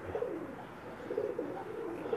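Soft, low Pakistani pigeon coos repeat in a steady murmur, several birds close by in a breeder loft, with a faint hum of background noise.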